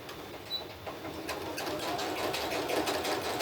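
A top-loading sewing machine stitches a crumb crazy quilt block, a close, rapid mechanical whir that rises slightly in loudness and runs steadily to the end.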